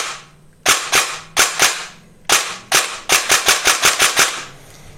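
An airsoft AEG gearbox with a Chiai 28 TPA motor cycles in sharp, loud, close mechanical snaps. Singles and pairs come first, then a faster string of shots, each with a short whir.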